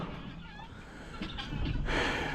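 Guinea fowl on a farm let out faint, scratchy chattering calls over a steady low rumble of background noise, getting somewhat louder toward the end.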